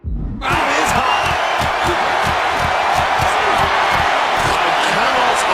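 Packed WrestleMania arena crowd roaring and cheering during an Intercontinental Championship match, a loud dense wall of noise starting abruptly, with rhythmic thuds of punches and chants pulsing beneath it.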